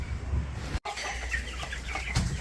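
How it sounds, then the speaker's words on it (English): Meat chickens in a pen cluck and murmur close by in a busy, irregular chatter, with a brief dropout partway through. "Just moved the chickens into a little bit of a bigger pen."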